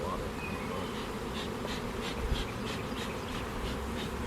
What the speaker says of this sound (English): Look at beautiful bees.